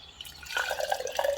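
Soaking water is poured briefly into a blender, a close gurgling splash with rising liquid tones over about a second.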